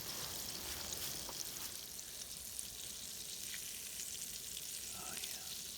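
Shrimp fry in a cast iron pan over an outdoor camp fire in the woods for po' boy sandwiches, a continuous bright crackling sizzle held at an even level, with faint background noise and no speech.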